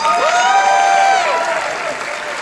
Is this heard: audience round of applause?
yes